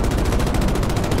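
Gunfire in Battlefield 2042 during armored vehicle combat, a loud continuous stream of rapid automatic shots with a steady, pulsing rhythm and heavy low rumble throughout.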